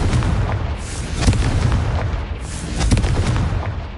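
A Confringo blasting spell in Hogwarts Legacy, two heavy booming blasts about a second and a half apart, each with a crackling tail over low rumbling, and no voices.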